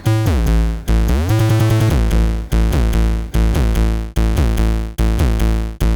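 A chopped electronic music loop: choppy synth bursts cut into repeating segments, each starting abruptly and decaying, with pitch glides and a steady rhythm.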